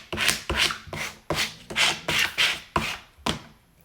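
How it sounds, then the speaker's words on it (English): A squeegee rubbed firmly over a vinyl decal transfer sheet in about nine quick, evenly spaced scraping strokes, close and crisp. "Give it my squeegee."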